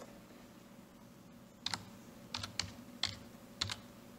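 Fingers typing a few quick keystrokes on a computer keyboard into a Windows search box, soft clustered clicks after a quiet start, close and alone.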